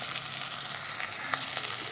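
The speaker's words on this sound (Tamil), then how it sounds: "ஆட் பண்ணிட்டு நல்லா வதக்கிடுங்க." Onion and tomato sauté with ghee in a pan for chicken gravy, a close, dense, unbroken sizzle with faint stirring scrapes.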